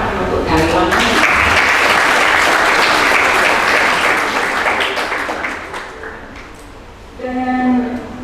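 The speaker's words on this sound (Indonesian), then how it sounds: "Tepuk tangan untuk dalam." Audience applause at the opening of a school foundation's staff development event in Surabaya, loud sustained clapping from a hall full of people that fades toward the end, followed by a brief burst of speech.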